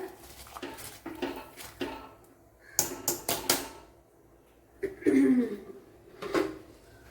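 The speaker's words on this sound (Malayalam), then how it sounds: "അരി ഇട്ട് കൊടുത്ത് ഒന്ന് ഇളക്കി കൊടുക്കാം." Rice tipped into a pot of boiling water and stirred in a Kerala kitchen while a fish biryani is cooked, heard as scattered metallic clinks and scrapes of a utensil against the pot, fairly quiet, with brief pauses between knocks.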